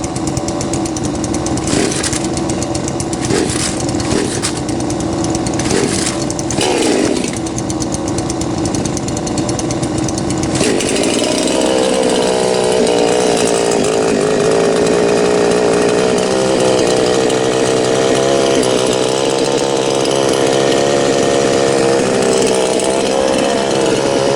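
A 52cc hand-pulled chainsaw is cold started with the choke on. Several sharp pulls and sputters come first, then the engine catches at about ten seconds and runs on at a loud, steady, buzzing idle close by.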